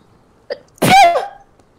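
A short intake sound is followed by one loud, close sneeze from an old lady in the video game Detention, ending in a brief voiced tail.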